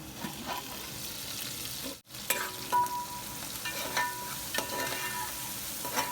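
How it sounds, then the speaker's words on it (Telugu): Tomato stirred into frying onions in a pan for fish biryani, with a steady close sizzle and scraping of the spoon, briefly cut by a short silence before the frying and stirring resume. "ఇప్పుడు ఈ టమాటాని కూడా వేసేసి ఒక్కసారి బాగా కలుపుకొని మూత పెట్టి"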